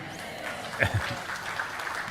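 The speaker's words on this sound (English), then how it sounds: "All of you clapping, you think I'm wasting my time." A seated audience at a live satsang in Varanasi claps in a loose, moderate patter that swells briefly near the middle, mixed with faint crowd murmur.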